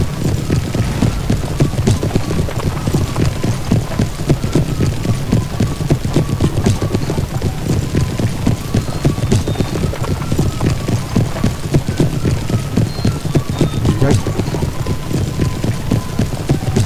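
Cavalry of the Fourth Regiment of Horse galloping through a wood in a video game battle, Gross-Jägersdorf 1706: a dense, unbroken clatter of many hoofbeats, loud and close, with no let-up throughout.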